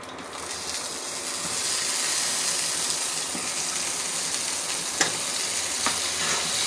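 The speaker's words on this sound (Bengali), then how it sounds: "আমি বেগুনগুলো কেটে পরিষ্কার করে লবণ আর হলুদ দিয়ে মাখায় রাখছি, এখন ভেজে দেব" Eggplant slices coated in salt and turmeric frying in hot oil give a steady, close hiss and sizzle throughout, with a few sharp pops and spits rising above the constant crackle.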